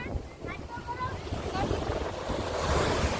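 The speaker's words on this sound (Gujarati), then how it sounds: "કેમ છે દરિયાનો સીન સી ફેસ કહેવાય" Sea waves wash along a seafront promenade in harsh daytime sun, a continuous broadband surf roar mixed with gusty wind buffeting the microphone, with faint whistled or squeaky tones early on.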